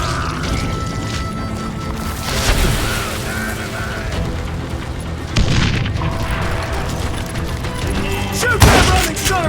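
Gunfire and booming blasts from the Western shooter game Call of Juarez: Gunslinger, dense and continuous over a busy game soundtrack, with heavier bursts near the start, middle and end.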